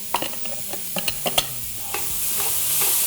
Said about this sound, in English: In goes the mirepoix. Carrots, celery, onions, and the ever so important pancetta.